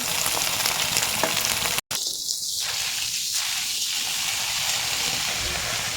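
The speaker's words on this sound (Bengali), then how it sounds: "এখানে সব এক এক করে দিয়ে দেবো, এগুলো সব লাল করে ভাজবো।" Vegetables for veg chowmein fry in a pan with a steady, loud sizzle that runs throughout, broken by a brief dropout and a few stirring scrapes.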